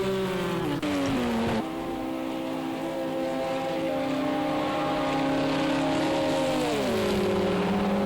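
Race car engines at Spa-Francorchamps in Project CARS 2, with an LMP2 prototype lapping a backmarker GTE car: a steady, loud, harmonic engine whine held through the clip, pitch dipping as the car lifts and shifts, then settling again.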